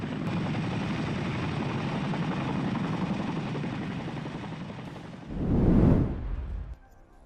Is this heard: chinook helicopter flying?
yes